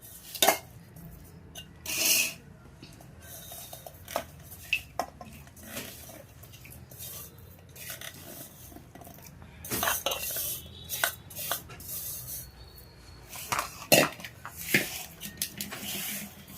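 Broad bean pickle is stirred and scraped in a metal kadai, giving intermittent clinks and scrapes of a spoon against the pan at close range, with quiet gaps between strokes and no talking.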